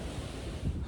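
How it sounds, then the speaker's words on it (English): Strong, brutally cold wind roars across a mountain trail toward Guadalupe Peak, a steady, dense rush buffeting the microphone. "It is just so windy and just brutally cold."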